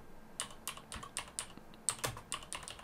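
Fingers typing on a computer keyboard, a string of crisp, quick key clicks up close, unevenly spaced, with no voices over them.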